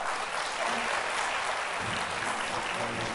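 Steady applause from an audience at a Turkish music performance, a dense even patter of many hands clapping for a few seconds without pause.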